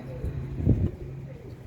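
A Royal Teddy pigeon coos once, a soft low throaty call up close, with faint background noise around it.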